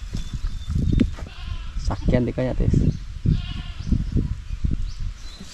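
Goats bleat repeatedly on a provincial farm, several loud nearby cries overlapping one another while a person speaks over them.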